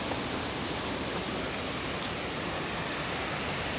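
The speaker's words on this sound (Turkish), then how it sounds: "Burada böyle bir şelale var." A spring snowmelt waterfall near Porta Monastery in Şavşat gives a constant, even roar of rushing water, steady and moderately quiet, with no voices over it.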